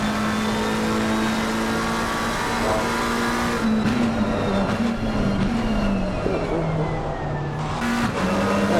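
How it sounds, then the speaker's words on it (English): A McLaren race car engine in the Xbox game Assetto Corsa Competizione at Laguna Seca drones loudly, then its pitch drops in stepped downshifts with blips, heard close over track noise. "The downshifts on it just sound so crispy too."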